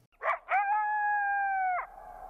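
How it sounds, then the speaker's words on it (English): Coyote in Yellowstone giving a yip howl: two short sharp yips followed by a long, steady, clear howl held for over a second, then a faint fading tail, loud and alone with no talk. "The yip howl declares to other coyotes that this territory is occupied."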